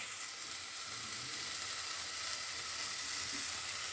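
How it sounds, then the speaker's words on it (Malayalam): Onions sautéing in a pan for potato curry give a steady, close, continuous sizzle with a soft broadband frying hiss throughout, with no speech. "ഉള്ളി വഴണ്ടിട്ട് വേണം."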